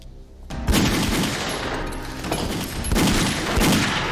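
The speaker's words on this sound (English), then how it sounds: "Shooting giant pistols right next to each other's heads." Rapid, loud pistol gunfire rings out in a film action scene from Skin Traffik, two shooters firing large handguns close together in a dense, echoing fusillade that runs almost the whole way through.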